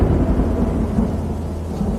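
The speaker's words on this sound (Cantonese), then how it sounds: "落雨啦，快啲行！" Steady rain with a low rumble of thunder along a hiking trail, a dense continuous wash of noise holding at an even level for the whole two seconds with no voices.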